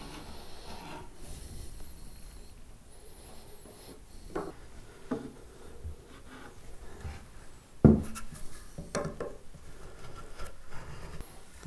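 A pencil sketches lines across a carved wooden guitar top, a soft, intermittent scratching of short strokes with a sharper knock partway through, close and quiet with no voices.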